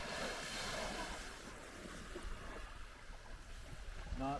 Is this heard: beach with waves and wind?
yes